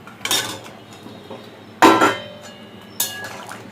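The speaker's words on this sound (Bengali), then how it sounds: "এবার এর মধ্যে আলুটা মিশিয়ে দেবো।" Metal spoon or spatula scraping and knocking against a wok (karai) as boiled potatoes are stirred into cooked mutton for biryani, three distinct clattering strikes spaced over a few seconds with quieter shuffling between.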